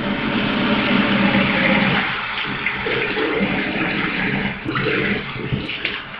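Water splashes and runs steadily as a face is rinsed and scrubbed at a sink with warm water, a continuous close wash with louder splashes near the end.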